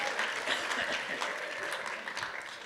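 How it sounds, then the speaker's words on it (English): An audience at a post-election panel discussion applauds, a brief spread of many clapping hands heard from a distance at moderate volume, tapering slightly at the end. "Round of applause for Westminster representing."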